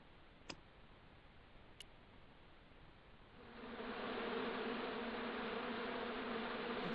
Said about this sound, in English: Now I knew why that bush was buzzing.